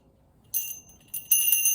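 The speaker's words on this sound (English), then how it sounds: "And I use some bells." Small bells used in a shamanic healing session ring in two bright bursts, a short shimmer followed by a longer, louder jingle after a brief pause, close and clear over near silence.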